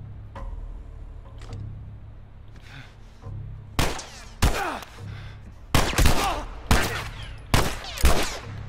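Gunfire in The Last of Us Remastered video game: a few faint early pops, then a run of loud, sharp close shots in irregular bursts over a low background hum.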